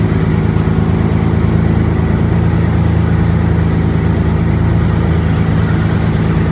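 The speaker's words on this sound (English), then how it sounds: "That's an old beat-up tractor." An old, beat-up tractor engine idles loudly and steadily nearby at a shipping dock, a constant low chugging rumble with no change in pace.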